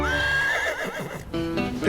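A horse, a gelding, neighs loudly and up close, a long wavering whinny followed by a second shorter call, with a faint clip-clop of hooves.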